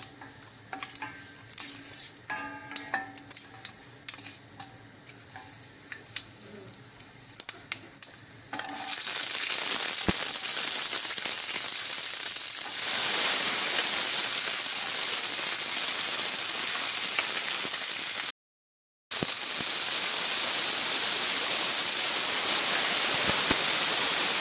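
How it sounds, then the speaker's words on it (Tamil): Whole spices (cinnamon, cloves, cardamom and fennel) hit hot oil in a pan for a chicken dish, bursting into a loud, steady sizzle after a quieter stretch of light clinks and stirring, with a brief cut in the middle. "பட்டை, கிராம்பு, ஏலக்காய், இந்த ஜாமான்கள், கொஞ்சம் சோம்பு அதை போட்டு லேசாக வறுத்துட்டு அப்புறம் ஒன்று ஒன்றா போட்டு வதக்கிடலாம்."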